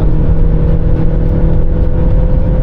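A Maserati Grecale with a 2.0L 300hp engine, its exhaust giving a loud, close, steady droning hum that stays even throughout with no breaks.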